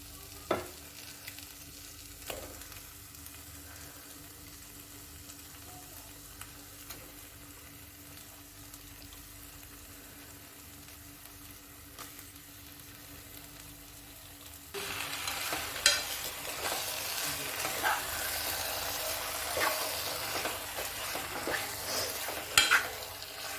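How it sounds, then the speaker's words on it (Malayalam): Washed chicken dropped into a masala for chicken roast and frying: a few clunks and low sizzling at first, then a sudden, much louder hiss of searing that holds for the remaining time with occasional stirring scrapes, no talking. "ഇനി ഇതിലേക്ക് നമുക്ക് കഴുകി വെച്ചിരിക്കുന്ന ചിക്കൻ ചേർത്ത് കൊടുക്കാം."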